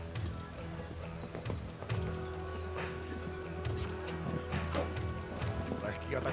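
Horse hooves thud across the course during a show jumping grand prix round, irregular footfalls moving through a busy arena soundscape with crowd murmur and a commentator's voice over the top.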